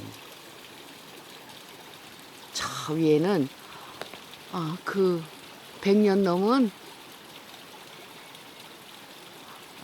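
A flowing stream makes a steady, even rushing wash throughout, while a person speaks in short bursts over it.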